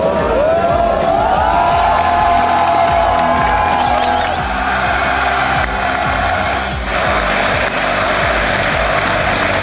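A large esports crowd at a 2014 All-Star League of Legends semifinal between FNC and SKT cheers and applauds loudly and continuously, with whoops and shouts rising above a sustained roar.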